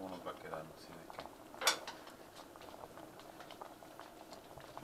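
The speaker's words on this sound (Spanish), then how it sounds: "vamos a dejarlas que hiervan y volvemos en un ratito." Shrimp patties boiling in a pot of water, a soft continuous bubbling patter with a brief clatter partway through, steady and fairly quiet.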